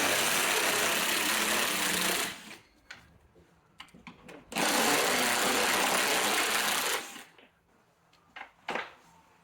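A power tool whirs loudly in two long bursts, separated by quiet clicks and handling noises, as bolts come out of the headlight assembly on a 2011–2023 Chrysler 300.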